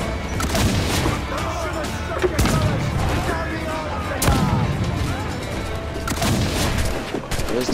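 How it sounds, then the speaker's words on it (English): Rapid volleys from a puckle gun aboard a pirate ship in Assassin's Creed IV: Black Flag, a dense run of gunfire and booms with broad bursts, loud and continuous over game ambience. "Back on that cannon, the puckle gun."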